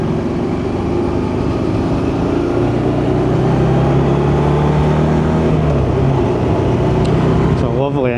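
A Morbidelli T1002V motorcycle engine hums steadily while riding, its low drone shifting pitch slightly under wind noise as a rider talks over it throughout.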